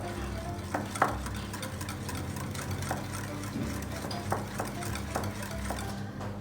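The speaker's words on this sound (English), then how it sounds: "Then we'll give it a stir." A spoon stirs eggless banana honey muffin batter with vanilla essence in a bowl, making soft repeated scraping strokes and a few light taps over a steady low kitchen hum.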